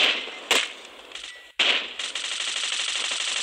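Gunfire in the shooter game Bullet Force, a loud sharp shot followed by rapid automatic bursts, a brief pause, then another crack and a sustained rattling stream of fire.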